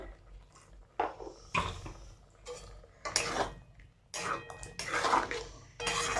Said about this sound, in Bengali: তো ভালো করে নেড়ে চেড়ে নিই